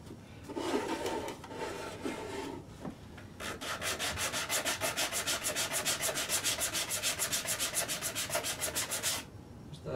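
Reusable sanding pads rub against the wooden body of a DIY ukulele, giving a few short scrapes and then a long run of steady, rhythmic back-and-forth strokes, close and fairly loud with no talking.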